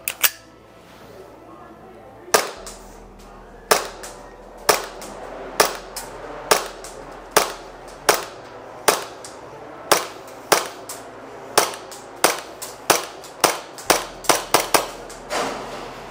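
Sharp shots from a Umarex Glock 19 Gen 5 airsoft gas blowback pistol fired one at a time at an outdoor range, about twenty in all, snapping and echoing, spaced a second or so apart and quickening toward the end.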